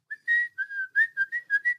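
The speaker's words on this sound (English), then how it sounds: "Yeah, I'll do a bloody whistle." A man whistles a short, lively tune alone, clear and close, in a string of quick sliding notes with brief gaps between them.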